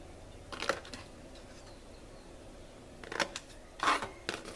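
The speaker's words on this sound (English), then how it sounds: "So I'm going to cut off this. This is the closure of the box for the sides. And I'm going to cut here as well." Scissors snip through paper while shaping a Valentine's treat box, a few short crisp cuts heard close up in separate bursts with quiet gaps between them.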